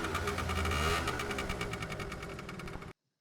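A motor engine runs with a rapid, even mechanical chatter, loud and close, before cutting off abruptly.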